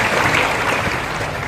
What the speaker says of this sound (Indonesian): Boleh kita berikan sekali tepuk tangan meriah untuk pembukaan acara Harum Nagari